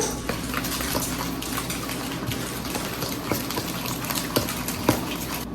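A whisk beats an egg into New York style cookie dough in a bowl, with steady clinking and scraping strokes against the sides, close and moderately loud.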